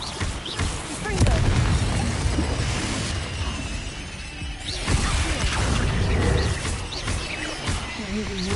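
Confringo blasting curse from Hogwarts Legacy bursts in repeated crashing, booming impacts with shattering debris and whooshes, loud and close amid chaotic spell combat, with vocal shouts over the fray.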